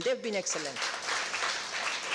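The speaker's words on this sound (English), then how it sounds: "I'm asking us to give a big hand of clap for our IT team." An audience at an EU information session claps for the IT team. The clapping is steady and moderately loud and follows a brief spoken line.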